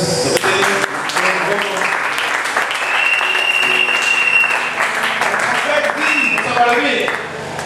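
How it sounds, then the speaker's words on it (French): Loud applause from a congregation at a French-language sermon, dense clapping mixed with cheering voices and some musical tones underneath. "Applaudissez pour le..."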